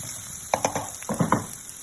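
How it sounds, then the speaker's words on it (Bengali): Chopped onions fry in a pan for an egg chicken Mughlai, giving a steady, fairly quiet sizzling hiss broken by a few soft knocks and stirring sounds. "এই যে দেখছেন, পেঁয়াজটার একটু কালার চেঞ্জ হওয়া পর্যন্ত একটু ভাজা ভাজা করে নিচ্ছি"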